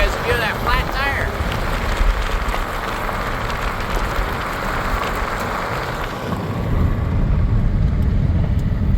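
A 1993 Plymouth Grand Voyager SE van, abandoned for 18 years, drives on a flat tire over weeds, making a rough, scraping rumble that grows heavier and louder toward the end, with voices talking early on.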